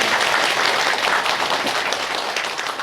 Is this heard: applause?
yes